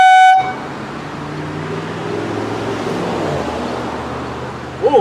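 Old Chevy car horns give one brief loud blast at the start, then a steady broadband rumble of engine or traffic noise carries on up close.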